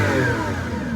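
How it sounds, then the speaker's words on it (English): The engine of a Lamborghini Aventador SVJ revs hard at close range in a dense, loud roar, its pitch falling slightly as it drops off over about a second. "I'm going to do just a couple of quick revs."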